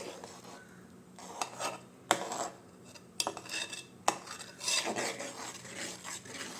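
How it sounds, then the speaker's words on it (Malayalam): A spoon stirs lentil payasam (parippu pradhaman) in a pot after thin coconut milk is added. Close scraping and rubbing strokes are broken by several sharp metallic clinks against the pot's side. "ഇതിലേക്ക് രണ്ടാം പാൽ ചേർത്ത് കൊടുത്തിട്ടുണ്ട് നന്നായിട്ടൊന്ന് ഇളക്കി യോജിപ്പിക്കാം"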